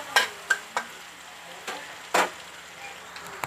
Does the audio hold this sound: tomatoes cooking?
yes